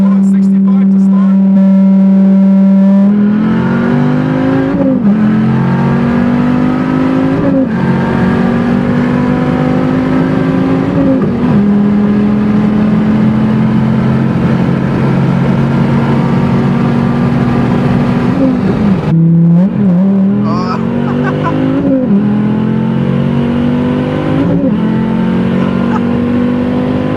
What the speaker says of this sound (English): let's do second gear nitrous